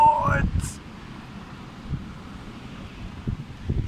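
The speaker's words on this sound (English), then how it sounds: "Look at the wind!" Strong gusting wind from a Storm Ciara squall line with heavy rain roars in a low, blustery rumble against the microphone, swelling again near the end. A voice is heard briefly at the start.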